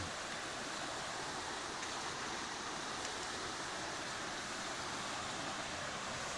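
Water pours down from Na Non waterfall over rocks in the forest at Kut Chum, Yasothon, a steady broadband rush that stays even and moderately close throughout, with no voices.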